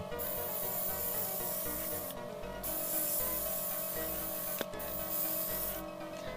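Airbrush driven by a compressor sprays paint onto a model's metal surface in steady hissing bursts, several short pauses breaking the continuous close spray for corrosion and grime weathering.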